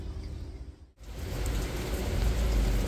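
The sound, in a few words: rain falling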